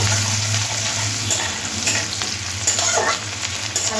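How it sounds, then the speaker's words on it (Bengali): Onions frying lightly in oil with whole cumin in a pan, a steady close sizzle with stirring scrapes running throughout, no one talking. "পেঁয়াজটা হালকা ভেজে নেবো"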